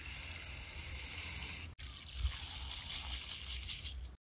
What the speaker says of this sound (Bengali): 3 বাটি জল দিয়ে দেব। 2 বাটি, 3 বাটি।